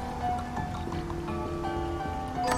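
Waterfall in Bloodstained: Ritual of the Night, a steady rushing wash of falling water heard under tonal game music, even and continuous throughout.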